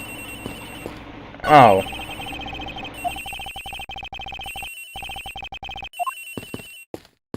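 A cell phone rings in the Ace Attorney Investigations video game, its repeating electronic ringtone pulsing steadily for several seconds alongside game music, with a brief voiced exclamation and a louder burst early on.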